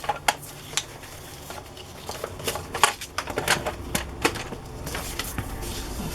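Paper being cut for a smash book cover, heard as a close run of crisp snips and rustles with irregular rhythm and no talk.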